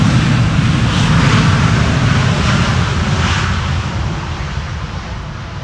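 A year-old Airbus A350 landing on runway 18R at Amsterdam Schiphol applies its thrust reversers, a loud broad jet roar that stays steady and then gradually fades toward the end.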